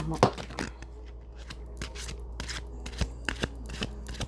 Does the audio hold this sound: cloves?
no